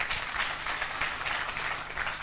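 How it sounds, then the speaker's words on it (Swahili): Congregation in a church applauding at a Pentecostal commissioning service, sustained dense clapping from many hands throughout, moderately loud and fairly close. "Tumpigie makofi tena."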